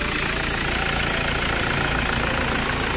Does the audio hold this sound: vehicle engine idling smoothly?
yes